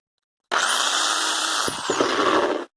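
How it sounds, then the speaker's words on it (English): A power drill spins a drill bit to clean burrs from drilled metal, a steady close, loud whine lasting about two seconds with brief scraping catches before it stops. "again clean them off using a drill bit"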